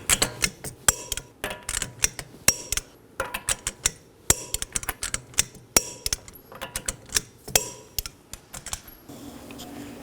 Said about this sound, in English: Now let's go ahead and torque these to 100 foot-pounds in a crisscross pattern.